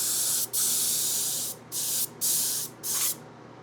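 An airbrush sprays paint onto a scale model of the Avro Arrow jet in about five loud, close hissing bursts separated by short pauses.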